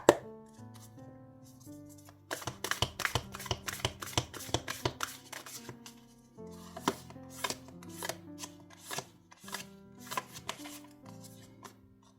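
Oracle cards are shuffled by hand for a tarot reading, giving crisp clusters of papery slaps and riffles in uneven bursts over soft background music, with no talking.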